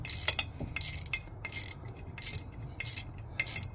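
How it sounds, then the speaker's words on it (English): Hand ratchet turning a Torx T30 brake rotor retaining bolt on a GM crossover such as an Acadia or Traverse, giving rapid repeated clicking bursts in a steady back-and-forth rhythm, close and fairly loud with no talking. "Remove this bolt altogether, your rotor should come off."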